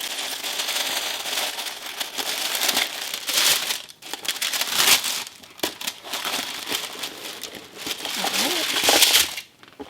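Lavender-tinted tissue paper crinkles and rustles in bursts while a handbag is unboxed, loud and close, with brief pauses between handlings.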